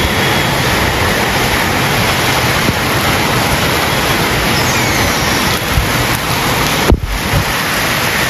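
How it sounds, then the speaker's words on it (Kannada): Heavy monsoon rain pours steadily with gusting wind, a dense, continuous roar that stays loud throughout, with a brief sharper crack near the end. "ಇದು ಮಳೆಗಾಲದ ಮಳೆ"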